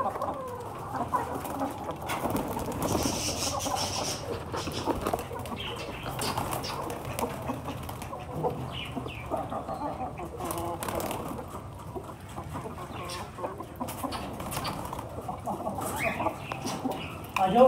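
Chickens and a rooster cluck in a coop near pigeons, with a continuous low murmur of clucking and some wing flapping, fairly faint and close, with light voices in the background.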